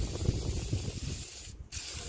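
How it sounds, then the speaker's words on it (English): WD-40 is sprayed onto suspension nuts on a Mitsubishi Lancer lower control arm, a short close hiss lasting about a second and a half before it stops. "we're gonna apply plenty of WD-40"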